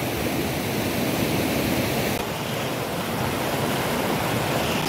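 The Mechi River on the Indo-Nepal border rushes steadily past, a loud, unbroken wash of flowing water heard close up with no voices.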